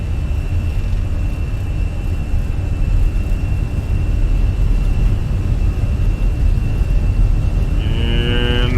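Simulated Fenix A320 jet engines on the takeoff roll in Microsoft Flight Simulator give a loud, constant roar with a steady high whine, and a rising tonal sweep arrives near the end.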